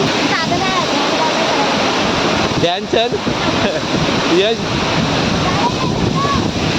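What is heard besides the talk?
Ranpat waterfall, water falling fast from above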